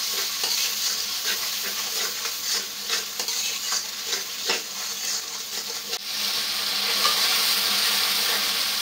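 Ginger-garlic paste masala with salt fries in a pan while being stirred, loud close sizzling with bursts of spatula scraping, then a steadier hiss near the end, no talking.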